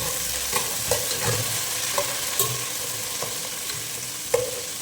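Tomato frying in a pan for fish curry gives a steady close hiss and sizzle, broken every second or so by the clack of a spoon against the pan during stirring.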